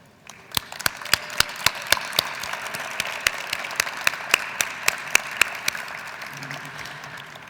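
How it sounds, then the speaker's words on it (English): A banquet audience at a philanthropy celebration claps for the host committee, brisk steady applause with sharp individual claps standing out, filling the room at moderate distance. "Let's give them a round of applause as well."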